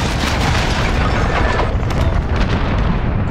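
An aircraft slams into a helicopter on an airbase tarmac in Call of Duty Modern Warfare, producing a loud, dense explosive roar with sustained rumbling blasts and crackling debris throughout, no speech.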